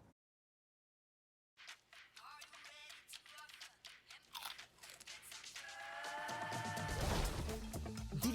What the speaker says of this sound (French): Tuc, croquez pour le fun.